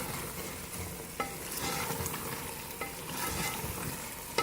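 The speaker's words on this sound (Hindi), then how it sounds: "और इसको अच्छी तरह हिला देंगे" Potato and eggplant frying in a pan with cumin and dried coriander, stirred steadily under a continuous sizzle, with a few sharp utensil scrapes against the pan.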